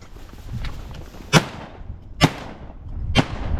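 Three sharp shotgun blasts during a duck hunt in Idaho, spaced about a second apart, each loud and close with a long outdoor decay trailing off.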